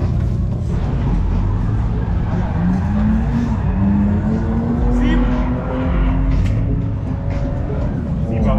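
A BMW E30 fitted with a V8 engine drifting, its loud engine roar rising and falling over a steady rush of tire noise and squeal, heard close and continuous throughout.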